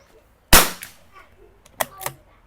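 A CZ 457 Jaguar rifle with a 23-inch barrel fires RWS Target ammunition at a 50 m range. One loud, sharp report rings out alone, followed by fainter clicks of the action being worked.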